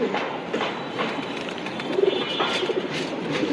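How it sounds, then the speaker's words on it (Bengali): A male tournament racing pigeon coos in low, throaty rolls that repeat close by over a faint background hum. "মাশাআল্লাহ, ভাইয়ের খুবই বিশ্বস্ত একটা কবুতর,"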